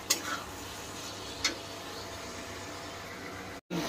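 Green peas frying in a pan for Bihari-style matar paneer give an even, steady hiss, broken by two brief clinks of stirring and a short gap near the end.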